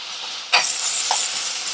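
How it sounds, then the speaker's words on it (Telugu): Ginger garlic paste fries in a pan for Guntur chicken fry, a steady close sizzle and hiss with a brief stir or splash partway through. "అల్లం వెల్లుల్లి పేస్ట్ కొంచెం పచ్చివాసన పోయేంత వరకు ఇట్లా ఫ్రై చేసుకోవాలన్నమాట"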